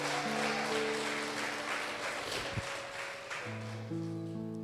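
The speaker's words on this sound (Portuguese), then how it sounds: "Você pode dar uma salva de palmas ao Jesus nessa noite?" A church congregation claps for Jesus during an evening service, a broad wash of applause running under sustained keyboard chords that continue throughout.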